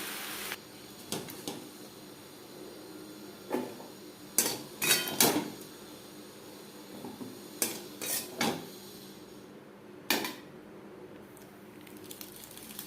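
Fried potato and jackfruit being scooped from a kadai into a bowl after cooking on a gas stove, giving scattered metallic clinks and scrapes of utensil on pan at irregular intervals, close and fairly quiet, with no talking.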